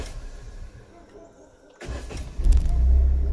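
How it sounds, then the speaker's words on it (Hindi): A manual car is started during U-turn practice. A quiet interior hush gives way to a sudden engine catch, then a rising, steady idle rumble up close. "स्टार्ट कर गाड़ी"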